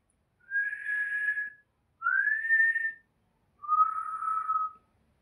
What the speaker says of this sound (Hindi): वो सीटी मारता